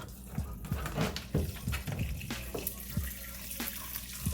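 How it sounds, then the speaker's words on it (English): Water running from a tap into sea moss for gel, splashing and bubbling with scattered drips and knocks, fairly close and continuous, no talking. "put some more water in it"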